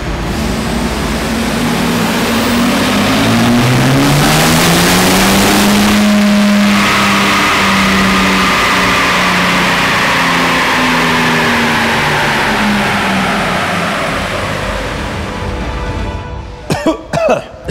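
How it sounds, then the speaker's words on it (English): A VW Amarok pickup with a swapped-in BMW straight-six engine revs hard on a dyno, its loud engine note climbing steadily through the gears before it cuts off and a few sharp clunks follow near the end. "we just did a dyno run with the bakkie"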